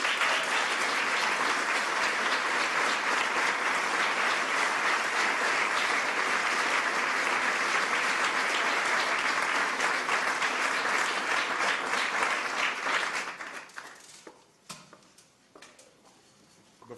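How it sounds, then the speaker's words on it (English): An audience at the 2009 Presidential Medal of Freedom ceremony applauds loudly and steadily for about thirteen seconds, then the clapping fades quickly to a few scattered claps. "why don't we all give an extraordinary round of applause to these remarkable men and women"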